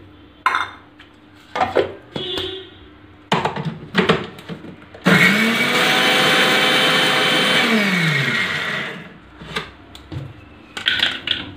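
Melon seeds (magaj) being crushed in an electric grinder for dhania prasad: one loud, steady whirring burst of about three seconds, with clattering handling sounds of the jar and utensils before and after.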